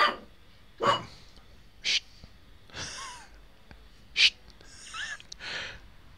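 A pet dog named Bailey indoors making short huffing, wheezy snorts and breathy yelps, about six bursts spread unevenly over several seconds, fairly close and fairly quiet.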